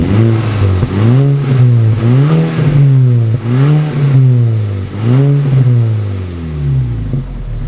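A Volkswagen Golf GTI with a newly fitted exhaust starting from cold, its engine loud and close, revving in a series of repeated rising and falling bursts before settling to a lower idle.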